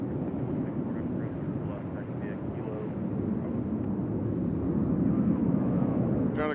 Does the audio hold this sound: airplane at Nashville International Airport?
yes